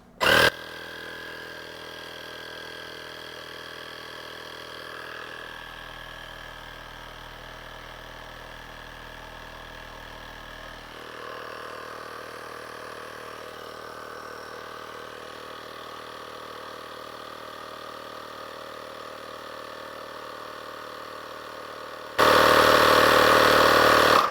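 A GOOLOO AP150 PRO tire inflator on its basketball setting runs steadily for about twenty seconds, a continuous motor drone with a slight pitch shift partway through, then a louder burst at the end as it stops automatically.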